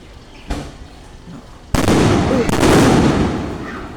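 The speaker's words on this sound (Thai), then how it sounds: "พิ่นสิเริ่มทำพิธีชาปนกิจแล้ว จุดประทัดค่ะ" Firecrackers set off at a Buddhist cremation ceremony at the village temple of Ban Nong Khaen: a single sharp pop, then a loud, dense string of crackling bangs up close that keeps going to the end.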